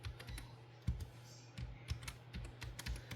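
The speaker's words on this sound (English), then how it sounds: "my typing is not always the fastest" Typing on a computer keyboard, a steady patter of soft, close key taps with occasional heavier strokes, fairly quiet and without talk.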